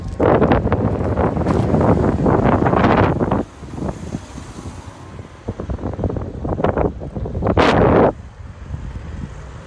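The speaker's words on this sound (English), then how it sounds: "as you can see, the wind is blowing." Strong wind blowing outdoors while walking through a seaside town, loud gusty buffeting against the microphone that roars for several seconds, eases, then surges again near the end, with no voices.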